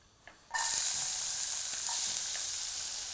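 Coconut oil in a preheated saucepan bursts into a steady, hissing sizzle after a quiet half-second, then crackles evenly and softly on its own.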